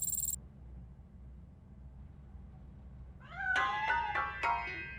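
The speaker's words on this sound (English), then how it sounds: "That cat must be hiding inside." A cat meows several times in quick succession inside a piano in the video game RoboCop: Rogue City, rising and wavering, fairly close, after a short electronic beep and a stretch of quiet background hum.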